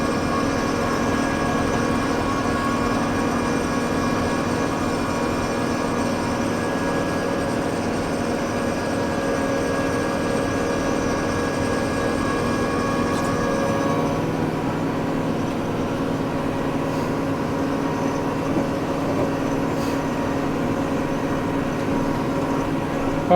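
A tractor-driven snow blower clears light, fluffy lake-effect snow in calm winds. Its engine gives a loud, steady, continuous drone, with a slight drop in tone partway through and no talk.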